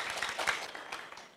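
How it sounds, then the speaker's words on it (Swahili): A crowd at a Swahili-speaking rally claps in a short, moderately dense burst that thins and fades away before cutting off. "Piga makofi kwa sisi."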